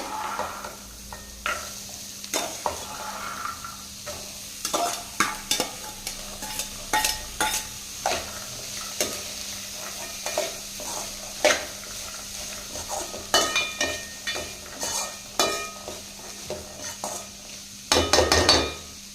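Peas being stirred in a pan for Tamil roadside-style pattani sundal, giving repeated scraping and clinking of a spoon against metal with a soft sizzle underneath, close and steady, no voices.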